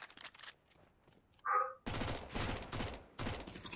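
A short tonal blip is followed by sustained rapid gunfire in bursts, loud and close, with a brief pause between volleys, in the video game CS:GO.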